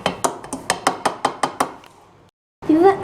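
Cake batter for a homemade lemon cake is mixed in a bowl, and the utensil strikes the bowl in a quick, even run of about nine close, bright clinks. The clinks stop, there is a short pause, and then a voice is briefly heard.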